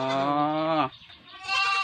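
Goats bleat in a pen on a goat farm: one long, loud, wavering bleat close by, then a short pause and the start of another call.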